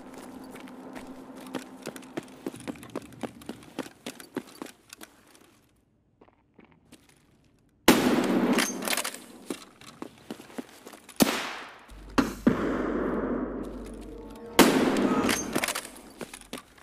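Bolt-action rifle gunshots in the shooter Escape from Tarkov. A few loud, sharp blasts with long echoing tails ring out between quieter clicks and footsteps, and a short silent gap falls partway through.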